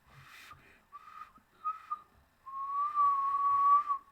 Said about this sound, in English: I can't whistle very well.